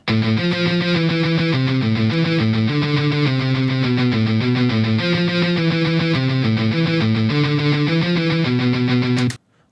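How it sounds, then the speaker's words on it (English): A palm-muted electric guitar picks out a steady, repeating melodic line, loud and continuous with no voices, ending abruptly. "I wrote down a line right here just with the muted guitar"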